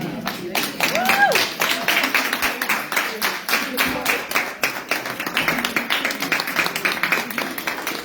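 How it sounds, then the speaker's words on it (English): An audience breaks into sustained applause after a speech, a dense, steady patter of many hands clapping, fairly close and continuous for several seconds. "can we get another round of applause, please?"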